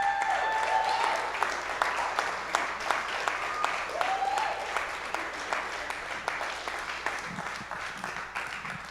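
Audience applause for volunteers and team members at a 2017 annual meeting, a steady wash of clapping filling the room, with a voice speaking over parts of it.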